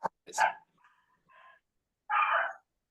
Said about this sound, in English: Sounds like the dog has much to share.